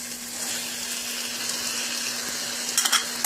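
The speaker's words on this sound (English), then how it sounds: "we're going to add the cut tomatoes and cut green peppers to the onion mix" Cut tomatoes and green peppers fry in an onion mix for Egyptian quiche, giving a steady, close sizzle with a faint background hum and a few brief clinks near the end.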